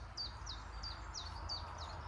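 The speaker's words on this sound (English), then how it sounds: "Listen to the birds." Bright, repeated bird chirps ring out at a steady rhythm outdoors over a low background rumble of passing tractors, clear and fairly close.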